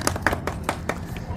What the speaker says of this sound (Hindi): ताली हो जाए इनके लिए